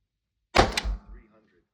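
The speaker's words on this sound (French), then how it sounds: "On va effectuer un cinquième tir." Single shot from a short-barrel Vesta Sentinel airsoft gun, a sharp close snap followed by a brief hollow thunk that dies away within a second.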